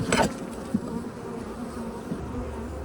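Honey bees buzz around a beehive in a continuous close drone, with individual insects passing near.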